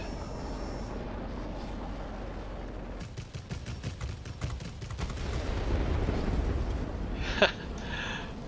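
Bomb blasts and gunfire in World of Warplanes with a German Messerschmitt Me 262 HG III: a dense flurry of sharp bursts gives way to a loud, rolling rumble, with one brief crack near the end.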